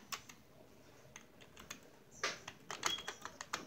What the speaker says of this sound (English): I'm pressing the keys.